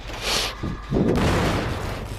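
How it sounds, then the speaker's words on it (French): Explosion in a survival video game, a short muffled blast followed by a sustained rumbling roar that stays loud to the end, with no voices. "ça, cette explosion-là, le mec va être au courant"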